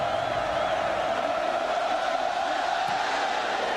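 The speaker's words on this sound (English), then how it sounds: "This crowd is ready to party." A college football stadium crowd at an Iowa State versus Nebraska game in 2002 roars steadily throughout, a dense, sustained wall of cheering with no lull.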